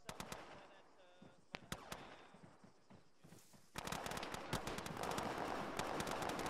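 Rapid bursts of gunfire from the ArmA military video game, sharp close shots with sustained automatic fire growing louder and denser in the second half, under radio-style chatter.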